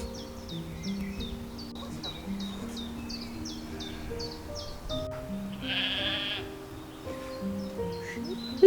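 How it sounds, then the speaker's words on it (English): Sheep bleating on open ground beside a stream, several wavering calls spread across the stretch at moderate distance, with bird chirps and rustling in the background. "Look at our sheep."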